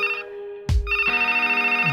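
A telephone rings in an office scene with repeated electronic trill pulses, broken briefly by a low thump, then resuming loud and steady.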